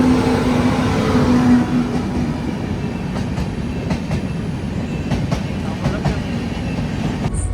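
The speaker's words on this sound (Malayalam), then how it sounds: "ഒരു ട്രെയിൻ വരുന്നുണ്ട്" A train passing near Mangalore on an Indian Railways route, a steady rumbling roll with faint rhythmic clicks of wheels over rail joints, close and continuous throughout with no voices.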